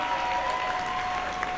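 A roller derby crowd applauds the most valuable players after a Rose City Rollers bout, a short, steady burst of dense clapping and cheering with a faint hum running beneath it.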